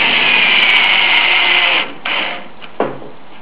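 Power drill driving a screw into a greenhouse rafter, a loud steady whir for nearly two seconds, then two short bursts as the screw seats.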